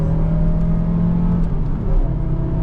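A Renault Safrane 2.5 20V RXT engine revs while driving, a loud, close, steady low drone with a brief dip in pitch and level near the end.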